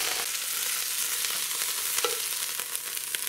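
Meat sears for sauerbraten in a cast-iron Dutch oven, giving a steady close sizzle with small pops and spits rising now and then, and no talking.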